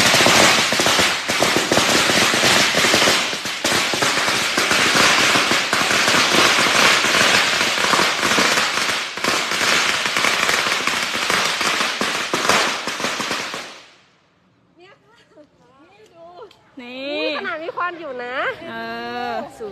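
Firecrackers set off near elephants go off in a dense, loud, continuous crackling barrage for about thirteen seconds, then stop abruptly, followed by a quiet pause and someone talking.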